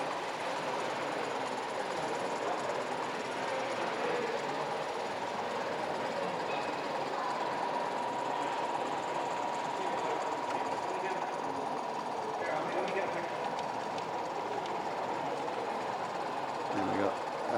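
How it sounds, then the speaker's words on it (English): Sound-fitted model railway locomotives running on a club layout at a model railway show, giving a faint continuous motor and engine hum under steady hall chatter and crowd noise. "but they're sound-fitted locos"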